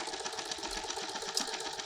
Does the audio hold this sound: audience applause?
no